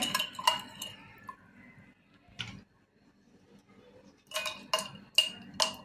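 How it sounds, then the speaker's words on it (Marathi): Lemon mint juice is stirred in a glass with a spoon, giving sharp clinks in short bursts, one early cluster, a lone tap midway, and a quick run of clinks at the end. "छान मिक्स करून घ्यायचे।"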